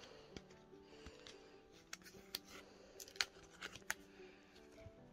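A trade package is opened up close: crinkling, tearing and snipping sounds with sharp scattered clicks and rustles, faint and intermittent, with no talking.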